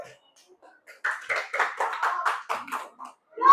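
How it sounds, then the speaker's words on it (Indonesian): Primary school children in a classroom clap for a classmate who has just performed. The claps come as a rhythmic run of close, moderately loud bursts lasting about two seconds, mixed with young voices. "Kasih tepuk tangan untuk temannya yang tampil dulu."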